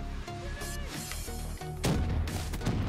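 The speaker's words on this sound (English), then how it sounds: "let me throw a grenade right there" A grenade explodes in Black Ops 3 on the Nuketown map, a sudden loud boom with a crackling burst that cuts in partway through, over steady game background noise.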